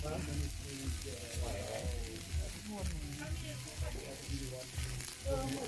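Food sizzling on a hot barbecue grill at a casual dinner with friends in Kenya, a steady crackling hiss running throughout beneath people chatting nearby.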